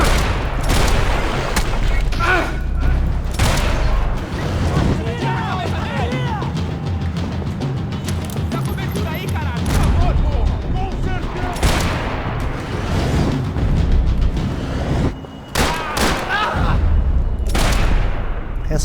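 Gunfire in Max Payne 3, dense bursts of rapid shots and heavy booming blasts crackling close and loud throughout, with game music and effects underneath.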